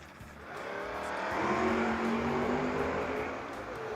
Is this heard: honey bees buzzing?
no